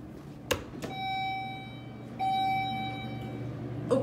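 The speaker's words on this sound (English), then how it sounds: "let's ring the bell" A mall doorbell in a Galleria shopping centre in Fort Lauderdale rings twice, each a sustained electronic chime tone, with thumps and low crowd and building hum between.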